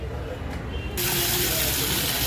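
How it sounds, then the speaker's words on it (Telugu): A 6HP, 8-stage submersible pump motor is switched on, and after a short quiet moment a loud, steady rush of flowing water bursts in and holds. "ఇప్పుడు మోటార్ ఆన్ చేస్తున్నాము."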